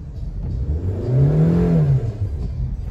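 A manual car driven by a learner revs up as gas is applied, a mid-pitched engine rising and falling in one smooth swell, close and steady, no talk.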